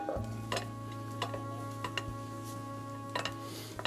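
Butter sizzles softly in a pan with a steady crackle, while a low electrical hum runs beneath and light intermittent ticks and clicks sound from utensils.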